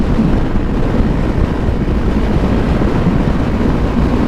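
A 2014 Kawasaki Ninja 300 ABS motorcycle cruising at about 7,500 RPM, its engine a steady, loud drone heavily buffeted by wind roar across the microphone, with no voices.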